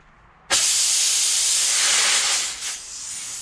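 Compressed air blasts out of a tire with no valve core fitted, a sudden loud broadband hiss that stays steady for about two seconds, then briefly dips and wavers before continuing.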